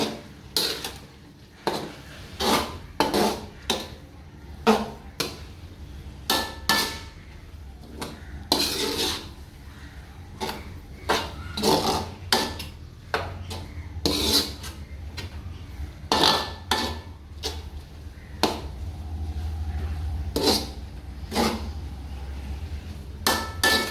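A spoon clanks repeatedly against a metal pot while rice is stirred into tomato gravy, sharp irregular scraping knocks close up, alone without talk.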